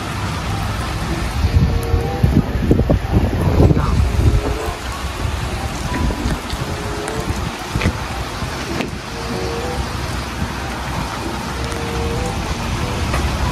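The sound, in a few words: heavy rain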